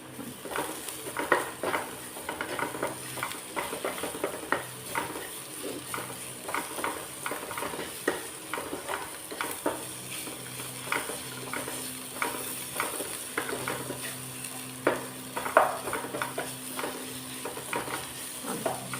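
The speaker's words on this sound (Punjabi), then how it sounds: "ਹੁਣ ਅਸੀਂ ਇਹਨਾਂ ਨੂੰ ਹਲਕਾ ਜਿਹਾ ਰੋਸਟ ਕਰ ਲਾਂਗੇ ਸਾਰੇ ਮਸਾਲੇ ਮਸਾਲਿਆਂ ਨੂੰ ਨਾਲ ਹੀ ਭੁੰਨ ਲਵਾਂਗੇ" Turmeric, salt and coriander powder roast in a pan for a broccoli sabzi, with a soft steady sizzle and frequent light scrapes and taps from stirring the whole time.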